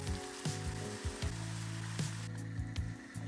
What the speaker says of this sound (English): I sliced some firm tofu that I fried with some salt, pepper, garlic powder, onion powder,